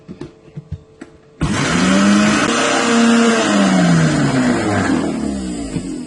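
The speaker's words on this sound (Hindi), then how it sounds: "उसको फिर दोबारा से ब्लेंड करते हैं" A blender whirs loudly and steadily for several seconds, blending honey and aloe vera gel into a face mask paste, after a few soft clicks and knocks.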